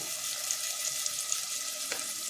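Malvani roasted masala frying in a pan with tomato, giving a steady, close sizzle with a soft hiss and a brief clatter near the end.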